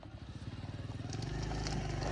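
A motorcycle engine putters with a rapid pulsing rhythm on a narrow rocky mountain path, growing into a rougher, louder rumble with clattering and scraping.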